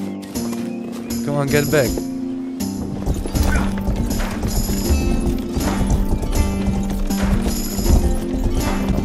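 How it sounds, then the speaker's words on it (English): A horse in the medieval video game Rustler trots with rhythmic hoof clip-clops and a brief whinny, set against game music and ambience while someone talks over it. "I'm riding my horse"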